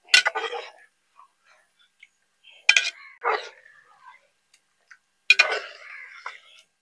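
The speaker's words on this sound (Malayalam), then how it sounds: "എന്നിട്ട് വീണ്ടും മിക്സ് ചെയ്ത് യോജിപ്പിച്ചു കൊടുക്കുക." Spoon scraping and clinking in a pan of dry pepper chicken, three separate bursts of metal clatter spaced a few seconds apart with silence between them, close and fairly loud.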